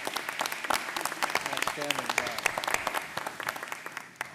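Audience applause at a school choice roundtable event, a steady patter of clapping from a room of people, with a voice speaking over it near the middle.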